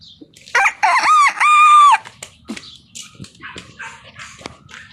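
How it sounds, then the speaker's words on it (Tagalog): A rooster crows loudly nearby, followed by clucking chickens and a dog barking in short bursts in the background. "May mga manok."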